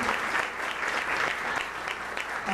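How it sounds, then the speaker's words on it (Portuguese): Steady, dense applause comes from an audience at a formal honorary citizenship ceremony in Osasco, with many hands clapping at an even level throughout. "A companheira Estela Gonçalves, eu gostaria de pedir uma salva de palmas para a Estela Gonçalves."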